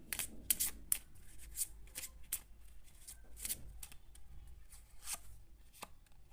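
Tarot cards are shuffled by hand close by in a quiet room, making a series of crisp riffling flicks and soft slaps in irregular bursts, with no one talking.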